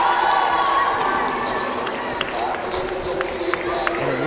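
Crowd at an Illinois State gymnastics meet against SEMO cheering and shouting steadily throughout, a dense indoor roar with scattered claps and children's shouts, people talking within the noise.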